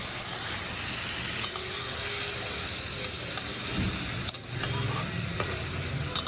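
Ridge gourd cooking in a pan with salt and turmeric, a continuous sizzle with intermittent scraping stirs and a few sharp utensil clicks against the pan, no talk.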